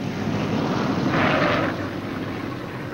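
A B-17 Flying Fortress bomber lands roughly, a loud steady engine roar and wind rush that swells briefly in the middle and then settles.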